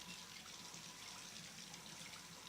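Hot, steamy water running steadily from a tap, a continuous broadband hiss and splash with no voices, filling the space evenly throughout.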